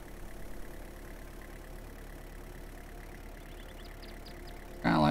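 A truck engine in the farming game Farmer's Dynasty hums steadily at a low idle-like drone, ending in a sudden louder burst of sound.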